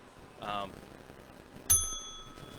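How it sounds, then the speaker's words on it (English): A voice is heard briefly, then a single bright bell ring sounds close by in a brewery and rings out with a clear, lingering tone. "I rang the bell."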